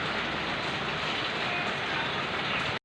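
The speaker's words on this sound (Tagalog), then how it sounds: "Ayan, ulan ng ulan." Heavy rain pours steadily at a house extension construction site, a dense, loud, unbroken hiss that fills the whole short stretch before cutting off abruptly.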